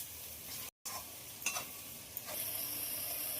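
Chili, coriander and cumin powders with turmeric frying in a pan for an egg curry, a steady broadband sizzle with a few scraping stirs of a spoon and one brief dropout, no voices.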